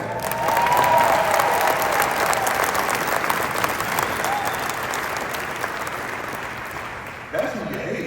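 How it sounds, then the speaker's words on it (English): A large crowd at a speaking event breaks into loud, dense applause that holds steady for several seconds with cheering mixed in, then tapers off near the end. "Now you're supposed to clap right there because that's alcohol."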